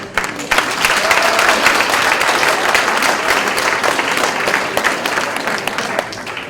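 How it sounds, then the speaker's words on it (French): A crowd at a college graduation ceremony applauds steadily, a dense wash of clapping hands that holds at an even level throughout. "je vous invite à donner une bonne main d'applaudissement"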